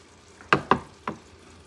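Hands mix a meatball mixture with bread, giving three short, wet squelches close by, the first two quickly paired and the third following after a brief pause, in an otherwise quiet kitchen.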